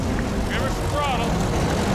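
A heavy tow truck's engine revs up under throttle with a steady, loud, broad roar that stays close and even, while people speak over it.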